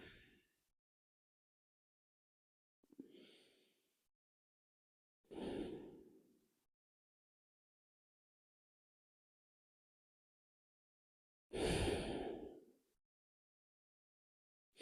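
Slow, deep breaths during a gentle grounding yoga session come in four soft, separate swells with long silent gaps between them, each inhale or exhale a breathy rush that fades away.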